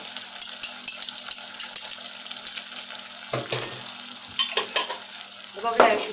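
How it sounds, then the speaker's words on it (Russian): Tomato paste sputters and fries in a pan, with rhythmic stirring and scraping of a spoon against the pan. "Надо обязательно прожарить пасту, чтобы она прожарилась."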